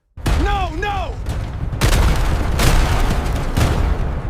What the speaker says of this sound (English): Turner watches happily as a line of explosions blasts the area.